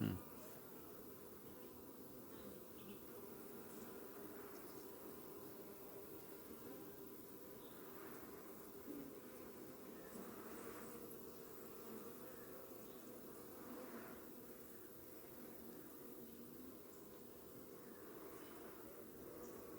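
A stingless bee colony, with workers and queen inside an opened hive, gives off a steady low buzzing that runs throughout at moderate-to-faint level, and soft voices talk now and then over it.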